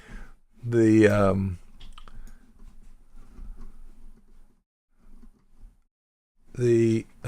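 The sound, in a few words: computer mouse clicking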